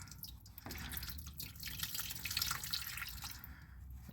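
Diesel fuel drips and trickles from a 2021 Jeep Gladiator EcoDiesel fuel filter as it is unthreaded, a close, steady wet dripping and splashing with no talk.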